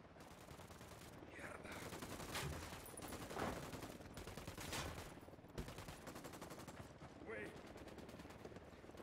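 Gunfire in the San Mateo level of a video game speedrun: repeated bursts of shots and impacts in dense game audio, continuous and loud throughout, with no talking.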